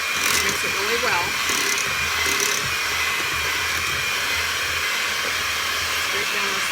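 Electric mixer beating pumpkin oatmeal cookie dough, a loud continuous whirring drone throughout with a faint voice underneath.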